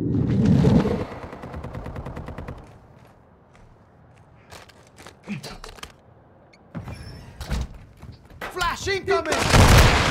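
Bursts of rapid gunfire in a first-person shooter video game, loud and close, with footsteps and game effects between volleys and voices talking over the action.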